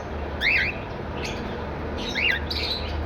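A breeder pair of green fisher birds in a shop gives two shrill, rising squawking calls, one early and one later, over a low background hum.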